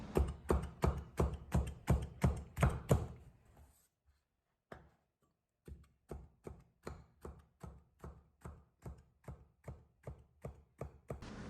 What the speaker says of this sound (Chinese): 斜刀切成小段